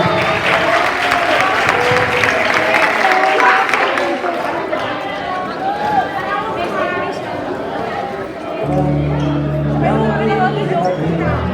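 Audience applause for the participants at the end of a workshop, a steady wash of clapping mixed with crowd chatter and voices; near the end a tonal musical sound rises under the clapping.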